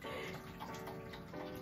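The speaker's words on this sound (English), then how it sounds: "I'm gonna get a little bit more water" Tap water runs steadily into a sink during a skincare routine, a faint continuous splashing hiss with no voices.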